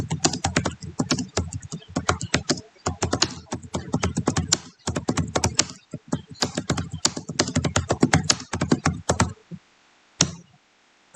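Typing on a computer keyboard at a Linux terminal: dense runs of quick clicky keystrokes in bursts with short pauses, close and fairly loud, stopping near the end.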